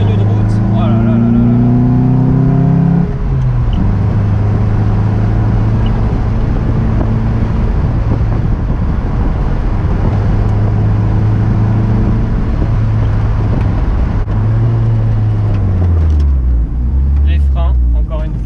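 A Lotus Elise sports car drives on winding roads with a loud, steady engine drone close by. The engine's pitch drops and rises through gear changes and corners, and the road roar stays constant throughout.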